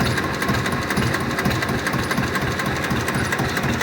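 An HMT 2522 tractor's diesel engine idles steadily nearby, a continuous rhythmic chugging rumble with no voices.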